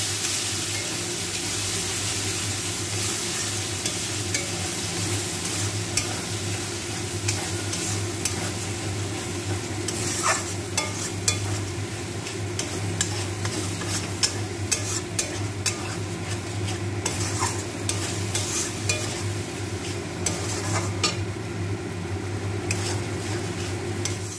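Spice paste sautéing in oil for jackfruit kofta curry, a constant close frying hiss with steady stirring scrapes and a few utensil clicks throughout, no talking.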